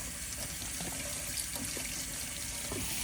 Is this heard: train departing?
no